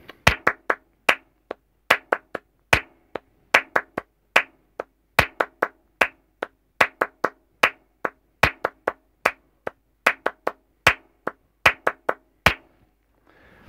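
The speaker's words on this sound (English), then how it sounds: "You are ready to do tangos clapping now." Flamenco tangos hand clapping, sharp, close, dry claps in a steady repeating rhythmic pattern with accented beats, heard alone in a quiet room for about fourteen seconds.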